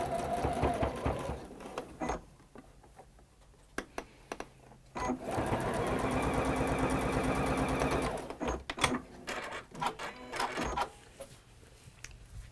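A sewing machine stitches a seam, running in short bursts and then one steady stretch of rapid rhythmic whirring, with clicks and handling noises between runs.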